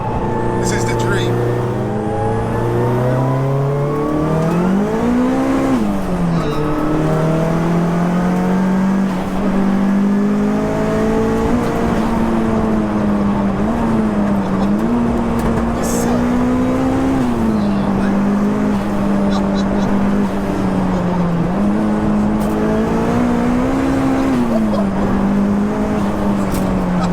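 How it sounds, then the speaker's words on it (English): A tuned, track-prepared 522 bhp Audi A3 1.8T turbo engine drones and revs steadily, pitch rising and dipping through gear changes with turbo whine, loud and continuous for the whole stretch. "Listen to the gears, the sound, the turbo."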